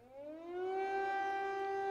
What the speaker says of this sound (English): In central Kyiv, air raid sirens rang out again.